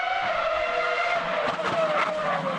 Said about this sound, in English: rev up your engines and get out onto the circuit